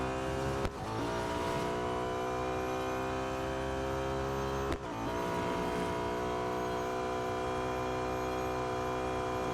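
A 2012 Audi A5 DTM race car engine in the Real Racing 3 video game drones as a steady high-revving tone, with two brief gear-shift dips, fairly faint and alone.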